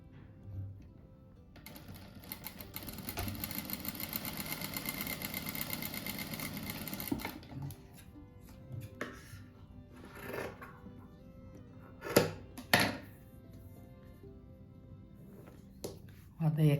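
A sewing machine stitches a patchwork rug in one steady, fast whirring run of several seconds, then stops, followed by handling clicks and scattered speech.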